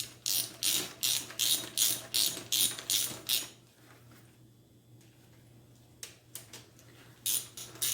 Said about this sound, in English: get these plugs here tightened up in the head